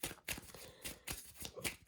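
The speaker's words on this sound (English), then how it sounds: "let's pull some, shuffle and get some tarot cards here" A deck of tarot cards being shuffled in quick riffling bursts, close by, with brief pauses between the flurries of snapping card edges.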